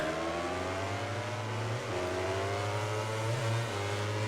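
Simulated racing motorcycle engine holding a steady, droning high-revving note at the start line of a MotoGP 19 race, loud and continuous with slight pitch wobbles, no talking.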